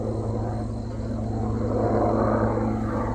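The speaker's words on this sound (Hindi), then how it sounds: "ये आवाज़ ऊपर से जब हेलीकॉप्टर की आई" A helicopter flies overhead, its steady rotor thump and engine drone forming a loud continuous rumble that swells slightly toward the end, with no voices.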